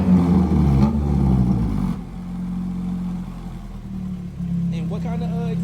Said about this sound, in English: could you hit the gas for me one time?